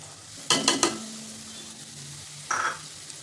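Onion going into a pan with softened green chillies for pav bhaji: two short close bursts of clattering and sizzling stirring, separated by a quiet stretch with a faint hum, no talking.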